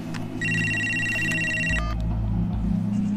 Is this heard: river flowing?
no